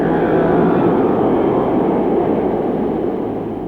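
RAF Blackburn Buccaneer jet aircraft roaring loud and steady, a broad continuous engine rush that holds for several seconds and eases slightly toward the end.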